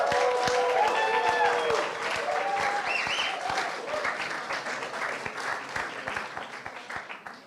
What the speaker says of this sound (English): the live audience may applaud